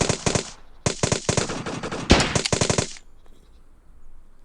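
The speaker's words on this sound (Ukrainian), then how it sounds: "Та хто там стріляє?" Rapid bursts of automatic gunfire in the video game Project Breach 2, several sharp, loud volleys in quick succession with brief gaps, then trailing off into quiet background.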